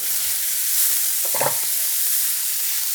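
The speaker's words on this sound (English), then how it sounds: "So I have rosemary, about a tablespoon, finely chopped. I'm going to put this in, give it a good stir." Finely chopped rosemary stirred into mushrooms in a hot pan, a loud steady close sizzle with a single brief scrape of the spoon partway through and no speech.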